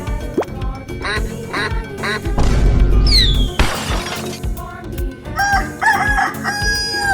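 Video game rooster crowing in a dense, loud mix with quacking, shattering and other animal calls, the crow rising clearly in the middle of the busy game sounds.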